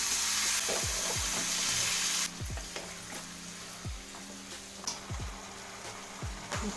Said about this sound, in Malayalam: ബീഫ് ഇതിലേക്ക് ഇട്ട് കൊടുക്കുക.